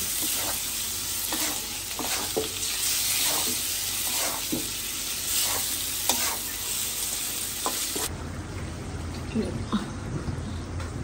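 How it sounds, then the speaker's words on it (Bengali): Fish sautéing in a pan, a steady frying sizzle broken by repeated scraping stirs, with the sizzle easing near the end while a voice murmurs faintly underneath. "মাছগুলো কষাই নেব প্রথমে"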